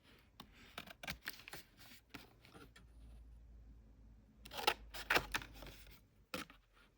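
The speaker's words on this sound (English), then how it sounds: "I could use smaller scissors and make my life easier." Scissors cut through postcards in a series of crisp, close snips and paper rustles, quiet and irregular, with a short pause in the middle and no talking.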